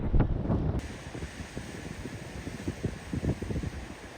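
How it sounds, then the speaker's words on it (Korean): Ocean waves along the Sydney coastal walk, a soft surging wash of surf mixed with gusty wind buffeting the microphone, fairly faint and uneven, with no one speaking. "푸른 바다와 파도 소리, 새소리를 들으며 걷는 해안 산책로는 힐링 그 자체였어요"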